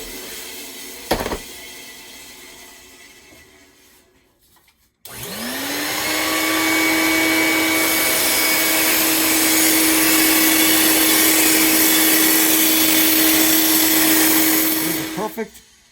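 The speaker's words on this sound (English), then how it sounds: "Now I'm going to go to the belt sander and I'm going to clean up the rough edges." A belt sander cleaning up the rough edges of a wood push stick in a school wood shop runs up and holds a loud steady whine for about ten seconds before winding down, after a quieter stretch with a single knock.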